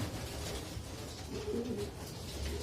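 Racing pigeons coo softly inside a loft, with a short, low burbling call in the middle over a faint background hiss, quiet and brief, with no talking.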